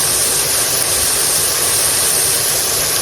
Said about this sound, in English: Even though they're deep frying, they need to be turned.